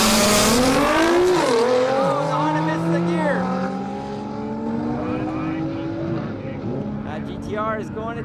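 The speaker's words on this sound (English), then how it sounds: "Man, that V6 sounds great." A V6 race car roars through a drag race launch, engine pitch sweeping up through quick gear changes, loud and close at first and then easing as it pulls away, with tire squeal mixed in.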